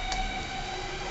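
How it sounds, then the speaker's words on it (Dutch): A train rumbling past on a rail bridge directly overhead, a steady loud roar with a tonal whine and a brief burst of noise near the start, heard from below while out on a walk. "Is dit een nieuwe trein of is dit een oude trein?"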